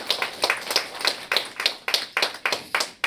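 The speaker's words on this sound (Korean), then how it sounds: "감사와 성원의 박수 한번 부탁드리겠습니다." An audience at a local culture symposium in Gunsan claps in a sparse, fairly even rhythm, with distinct individual hand claps close by and no talking.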